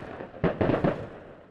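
Live-fire shooting during a military tactical exercise: a quick burst of three loud, fairly close blasts in succession, each followed by a decaying rumble, with quieter background noise before and after.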